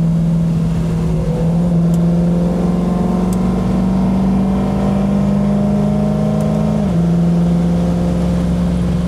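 LS-swapped car fitted with an 8HP paddle-shift transmission, a loud steady engine drone holding near-constant revs close up, with a brief dip as it shifts, and no talking.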